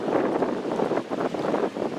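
Gusty wind buffets the microphone in uneven rushes, a rough whooshing that swells and dips.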